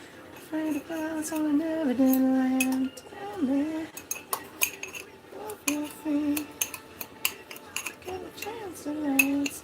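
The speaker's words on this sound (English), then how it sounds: "I'm going to use my magic fork" Fork scraping and clinking against a bowl while working softened, not-ice-cold butter for a caramel apple coffee cake, a steady run of close, bright metallic taps and scrapes with music playing underneath.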